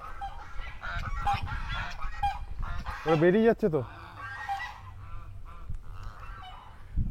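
Geese or ducks in a children's park honk repeatedly close by, with one loud burst of overlapping calls midway, while people chat in the background throughout.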